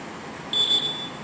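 A pinhole holiday detector sounds a steady high-pitched electronic beep when it reaches an uncoated spot on a coated surface, a single tone lasting about half a second over faint background hiss.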